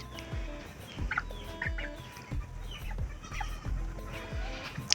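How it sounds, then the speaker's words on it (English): Four-week-old chickens cluck and call repeatedly nearby, overlapping bursts of squawks and gobble-like notes with low thumping in between. "these are 4 weeks old chickens and they're so"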